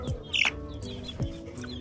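A crossbreed chicken on a farm gives a few soft clucks with a brief higher squawk, close and fairly quiet against a light background hum.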